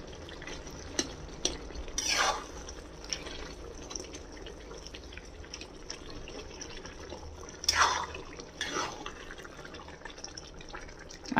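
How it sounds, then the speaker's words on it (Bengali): Softened mixed vegetables for a dhaba-style sabzi are stirred in a pan: two louder scraping strokes stand out over a quiet, wet simmering background, close up and with no talking. "এটা একটুখানি ঘাটা ঘাটা করে দেবো"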